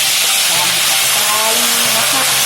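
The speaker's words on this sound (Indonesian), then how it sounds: "Kita masukkan lagi, yaitu bumbunya kita goreng." Seasoning paste sizzles in hot oil for seasoned chicken, a steady close hiss that runs without a break from start to end.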